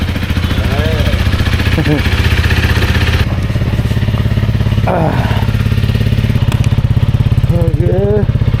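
A motorcycle engine idles loud and close with a steady, throbbing rumble while the bike stands stopped on a long ride toward Kashgar, and voices speak briefly over it.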